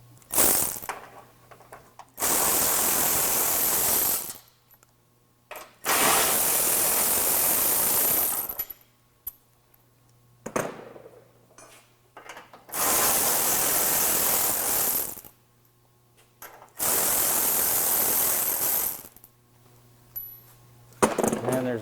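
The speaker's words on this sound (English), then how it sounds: "So I'm going to go ahead and start removing those bolts." A ratchet wrench backs out bumper bolts on a 2015 Ford F-150, sounding as four long bursts of loud, fast clicking separated by short pauses and quiet handling.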